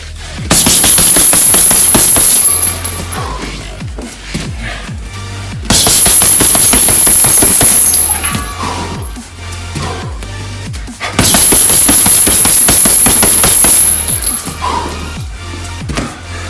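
Fists pound a heavy bag in a speed punching drill, rapid strings of fast impacts grouped into three long bursts with short gaps, a high electronic tone sounding over each burst.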